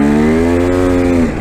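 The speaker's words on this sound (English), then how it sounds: "listen to my engine here. You can hear the clutch slip." A 250 KTM dirt bike engine with a slipping clutch holds a loud, steady droning whine at constant pitch, then tapers off right at the end.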